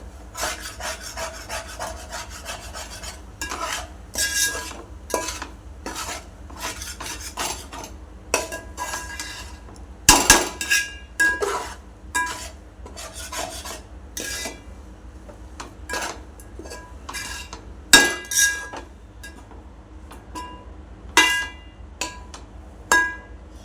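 A spoon scrapes and stirs shark fish curry in a metal pot in repeated rough strokes, loud and close, with sharp knocks against the pot between quieter pauses.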